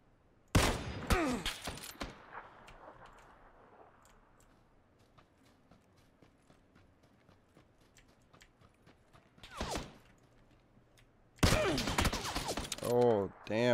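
Gunfire in the video game PUBG, with a burst of loud, sharp shots at the start, a single crack later and another rapid volley near the end, separated by quiet stretches with faint game sounds.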